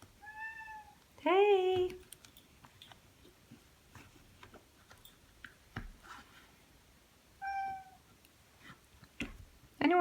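A pet cat meows loudly and nearby during an indoor sewing session with faux leather, three or four distinct drawn-out calls separated by quiet ticks and rustles, with a person briefly calling out.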